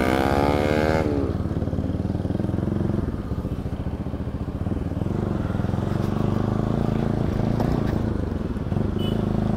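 A group of eight motorcycles rides together on an outing near Sisneri, with a steady, close engine drone and rumbling exhaust continuing throughout while the bikes cruise along.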